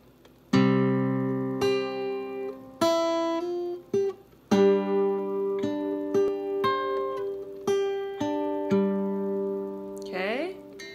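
Plucked acoustic guitar playing a fingerpicked pattern, clear ringing notes and chords with brief pauses, ending on a quick slide.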